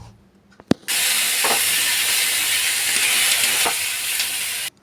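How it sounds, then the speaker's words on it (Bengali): Sliced potatoes, onions and chillies hit hot oil in a pan with a sudden loud, steady sizzle, broken by a couple of soft scrapes from stirring before the frying cuts off. "আলু পেঁয়াজ লঙ্কা সব একসঙ্গে ভালো করে নাড়াচাড়া করে নেব"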